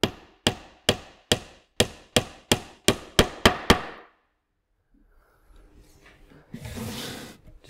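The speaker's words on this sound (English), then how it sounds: "we're going to pin it on this side here, down into the roof below" About a dozen sharp, evenly spaced hammer blows drive sherardized 1-inch nails through a wooden flat roof for a bee hive, followed by quiet and some faint rustling handling noise.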